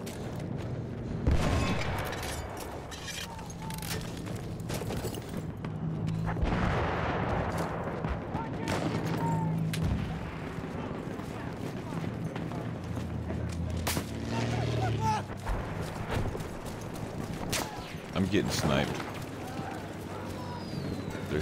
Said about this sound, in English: I'm getting sniped.